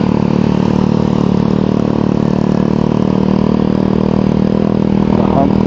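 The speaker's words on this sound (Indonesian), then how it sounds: "bawa motor kayak orang bingung, akhirnya yang di belakang ikut bingung" Motorcycles moving through Jakarta street traffic in the late afternoon, a steady loud drone of several engines idling and revving nearby, continuous throughout with no break.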